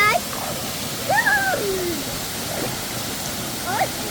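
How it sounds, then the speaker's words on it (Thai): A waterfall at Khan Sawan in Doi Phu Nang National Park, Chiang Muan, Phayao, with clear water, gives a steady broadband rush throughout, while a few brief whistled, chirp-like tones rise above it. "เที่ยวจังหวัดพะเยาน้ำตกคันสวรรค์นะคะ"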